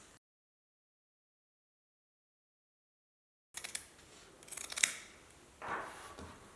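Scissors snipping through fabric while trimming the seam allowance and clipping curves on a sewn tote bag, a few close, short cuts after a long silence.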